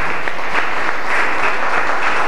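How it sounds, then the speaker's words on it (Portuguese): A church congregation claps together in praise, loud, dense and sustained applause filling the room throughout, with no voices standing out. "Louva o Senhor com as tuas palmas em nome de Jesus"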